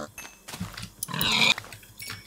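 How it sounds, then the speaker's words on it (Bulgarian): Minecraft pigs grunt, a few short oinks close by, the middle one longest and loudest, with quiet gaps between them. "аз викам да спирам да убивам тия свини"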